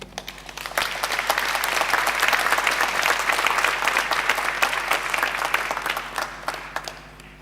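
A graduation ceremony audience breaks into loud, thick applause, starting quieter, then swelling into a full room of rapid clapping that stays strong before easing slightly at the end.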